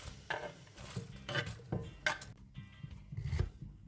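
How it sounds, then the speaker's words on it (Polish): A knife cuts a cucumber in half and into slices on a cutting board while a salmon salad is being prepared, giving a handful of separate, fairly soft chopping taps with short pauses between them. "Ogórka kroję na pół i na plasterki."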